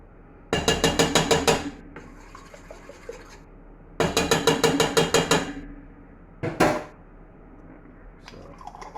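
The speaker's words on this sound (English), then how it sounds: "So, vinegar in the jar, and then shake the jar up" A jar holding vinegar and leftover tamarind sauce is shaken by hand in two long rhythmic bursts of rattling sloshes, then one short shake, close up and separated by quiet pauses.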